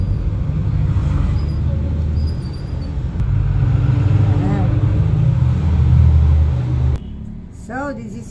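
Steady low rumble of cars and heavier vehicles passing on a nearby road, filling the background continuously and easing off toward the end, with a voice talking briefly at the close.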